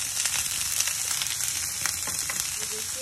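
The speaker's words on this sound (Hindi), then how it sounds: "अब हमारा पैन गरम हो चुका है, अब मैं इसमें डाल लेंगे सब्जियाँ, अनियन" Onions and chopped beans sizzle steadily in a hot pan, a dense, close, continuous crackle and hiss with no talking over it.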